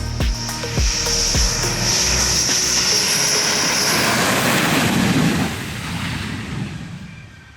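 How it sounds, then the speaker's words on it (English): Roar of Dassault Rafale fighter jets at an Indian Air Force station, a loud broad engine rush with a whining high tone that holds then slowly fades as the aircraft moves away. "We're here to document the latest addition to the IAF's fighter jet inventory,"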